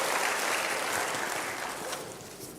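A church congregation applauding during a sermon, dense steady clapping that fills the space from start to finish and fades slightly toward the end.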